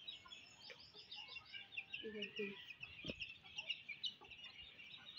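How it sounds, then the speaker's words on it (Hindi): Domestic chicks peep and cluck in a quick, continuous series of high chirps close by, over a low background rumble with a brief thump partway through. "देसी चूजा पत्थर पे खा लेते हैं"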